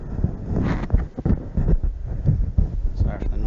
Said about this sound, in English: Just gonna check this mic out, make sure it's okay.